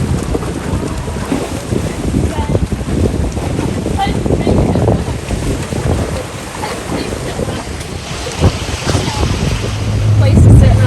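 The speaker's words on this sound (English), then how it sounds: "That's waves, dude." Ocean waves washing at the shore sound as a steady broadband wash, with wind buffeting the microphone throughout and a stronger surge near the end.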